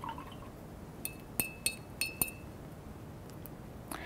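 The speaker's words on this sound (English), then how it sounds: "Rinse my brush again." A paintbrush is rinsed in a glass water container, tapping and clinking against the glass several times in quick succession, close and crisp over quiet room tone.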